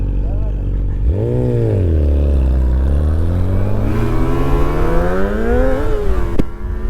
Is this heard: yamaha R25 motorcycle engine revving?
yes